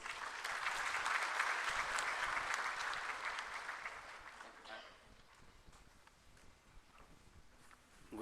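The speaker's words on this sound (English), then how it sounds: "And I want you all to give him a welcoming round of applause" A welcoming round of applause for Justice H.L. Dattu rises at a National Human Rights Day event, a broad crowd of clapping that holds steady and then dies away into quieter room sound.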